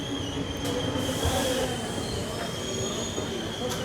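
Koyna Express passenger train wheels squeal in a continuous high metallic whine, steady and fairly loud throughout, over a low rumble of the moving coaches with a faint voice in the background.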